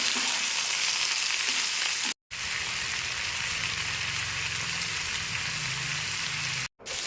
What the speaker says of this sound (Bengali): এবার দিয়ে দিচ্ছি আলু এবং ঝিঙেগুলো। সামান্য একটু নুন দিয়ে নেড়ে চেড়ে নেব।